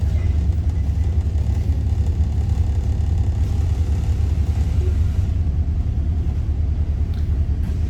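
Steady low engine rumble from a 707 bus in West Sussex heard from inside while riding, a constant droning hum that fills the whole stretch with no talking.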